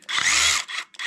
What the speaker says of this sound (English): this is construction equipment, and it's a hammer drill